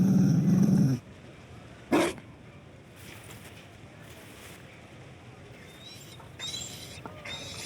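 A Mabari war dog in Dragon Age Inquisition lets out a low, close growl, then a short sharp bark, followed by quiet ambient wind and faint game background.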